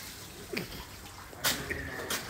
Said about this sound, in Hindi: देख रहे हो भाई ये पानी कैसा फेंक रहे हैं